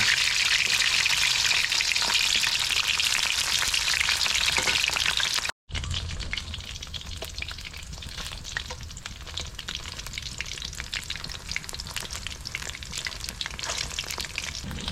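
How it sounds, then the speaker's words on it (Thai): Steady, loud sizzling and bubbling of vegetarian red pork deep-frying in hot oil, continuous throughout with a brief dropout partway, no talking. "เราก็ต้องเอาไปทอดก่อนอ่ะนี่เราทอด"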